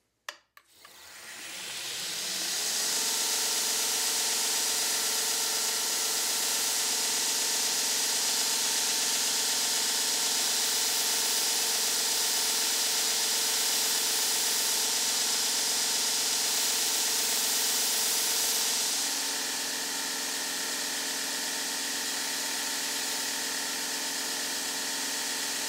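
A belt grinder regrinding an axe head to a convex apple seed edge, spinning up then holding a loud continuous abrasive whine with a humming motor tone that shifts pitch as the steel is pressed on, no talking.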